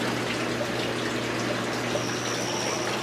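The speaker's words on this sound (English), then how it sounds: "It's actually trying to suck water right now, and there's nothing there." An aquarium top-off system with an empty reservoir bucket sucks and bubbles in a steady, dense rush with a faint high whine, continuous and close.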